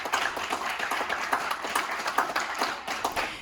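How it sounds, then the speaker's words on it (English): Applause from a high school senior recognition audience honoring recognized students, a steady dense patter of many hands clapping throughout at moderate level, with no talk over it. "Let's pause here and give a round of applause for those students recognized here."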